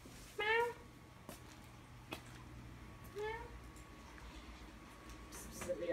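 A pet cat named Nike gives two clear drawn-out meows a few seconds apart, fairly close, over a quiet room with a soft background hum and a few small taps.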